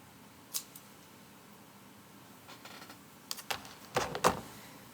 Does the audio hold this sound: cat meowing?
no